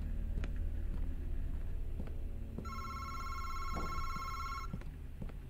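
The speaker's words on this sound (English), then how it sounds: "phone's fucking ringing," A telephone rings inside a horror video game, a steady electronic trill of stacked tones lasting about two seconds over a low rumbling ambient drone, with scattered soft clicks and thuds around it and no talking.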